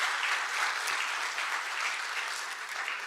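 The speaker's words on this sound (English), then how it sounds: "Can we actually give our deacons a round of applause?" A church congregation applauds its deacons with a steady, even wash of clapping, moderately distant and unbroken, with no voices rising above it.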